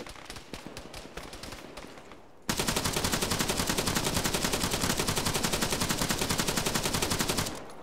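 Gunfire in the game ArmA 3 as a hill is suppressed: scattered shots, then a loud, continuous rapid machine-gun burst lasting several seconds, close and dominant.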